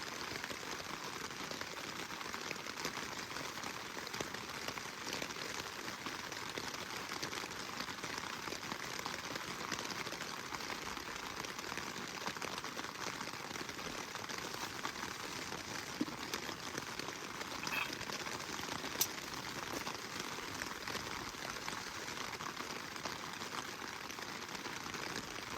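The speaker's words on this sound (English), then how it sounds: "listen to the rain on the tent" Rain patters on a tent pitched on a mountaintop, a steady, soft, even hiss of drops continuing throughout with no talking.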